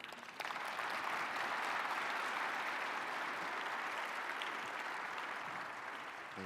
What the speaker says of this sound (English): please give a warm welcome and applause to Mayor Mike Duggan.